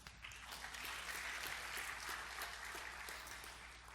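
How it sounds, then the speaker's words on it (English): Audience applause at a game development awards gala, a steady wash of clapping that swells and holds evenly throughout, quiet and somewhat distant. "This was the applause time, so let's do it again."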